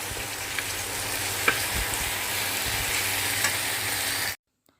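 Goat meat fries in a pan for a home-style curry, a steady, close sizzle with a few faint clinks that runs without break before cutting off abruptly near the end.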